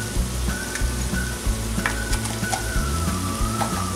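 Goya tomato sauce is poured over tender pork pieces frying in a pan. A loud, steady sizzle with stirring runs throughout, with a few utensil clicks and scrapes.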